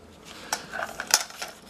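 A camping cookware set of pots, a frying pan and a lid is handled in a few quick metallic clinks and clatters, close and fairly light, with no one speaking.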